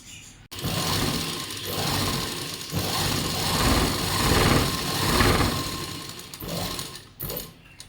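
A sewing machine runs steadily while stitching all the edges of blouse cloth about half an inch from the bottom, a continuous close mechanical whir with brief pauses near the start and end.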